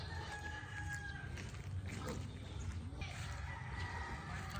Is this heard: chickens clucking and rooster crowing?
yes